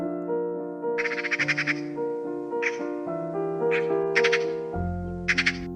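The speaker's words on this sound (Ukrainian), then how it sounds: "Сорока." A magpie calls in several rapid, rattling chattering bursts, fairly close, over a steady musical backing.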